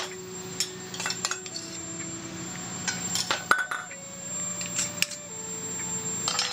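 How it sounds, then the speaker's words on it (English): Peanut butter, lime juice, coconut sugar and tamari dressing whisked in a bowl, with intermittent clinks and scrapes of a whisk against the dish over a steady tonal hum, no talking. "You wanna whisk this together"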